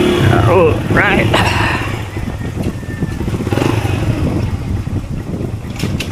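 A Monarch Axis 125 motorcycle engine runs close by on the road to a dam in Naic, Cavite, a loud idle that rises briefly, with a person talking over the mechanical chatter.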